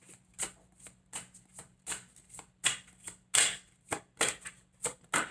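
Tarot cards shuffled up close ahead of another draw, a string of crisp papery riffles and snapping slaps in an uneven rhythm, moderately loud, with no voices.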